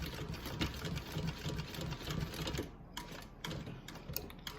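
Sewing machine stitching over a side seam of a garment, a fast rapid chatter of needle strokes running steadily, then stopping and restarting in shorter bursts, quiet and close.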